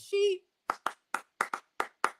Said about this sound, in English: that was round of applause for her